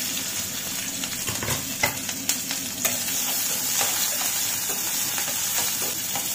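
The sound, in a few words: onion frying in a pan for egg curry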